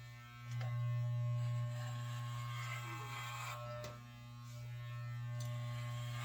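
An electric razor buzzes close by while shaving a head, a steady droning hum that swells louder for a stretch, dips briefly, then rises again, with no talking.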